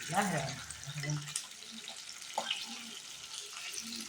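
Fish shallow-frying in a pan, a soft steady sizzle running low under the whole stretch, with faint clinks and spoon scrapes close by.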